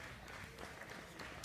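Spectators clap at the finish of a 10K road race as the last runner comes in, a faint, scattered patter of applause heard from a distance under steady outdoor background noise.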